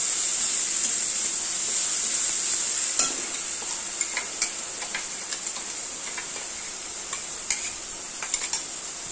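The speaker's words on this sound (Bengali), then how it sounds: "এই মশলাটাকে ভালো করে কষাতে হবে।" A spice paste of onion, garlic, ginger and green chillies is stir-fried in a pan for a prawn curry, giving a loud continuous sizzle with scattered scraping and tapping stirs, close by and without speech.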